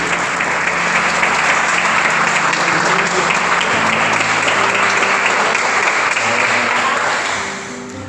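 A church congregation applauds in worship, loud dense clapping sustained close by for several seconds before tapering off at the end.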